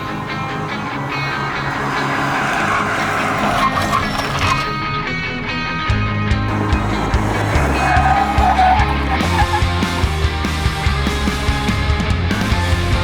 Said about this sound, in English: So here is how the Innova actually behaves under braking and the dive under braking.